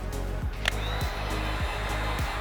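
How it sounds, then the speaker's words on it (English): A heat gun blows steadily while vinyl wrap film is heated and relaxed on a Cybertruck's stainless panel near a seal, giving a constant airy roar with faint periodic ticks and knocks underneath. "We get our heat gun hot."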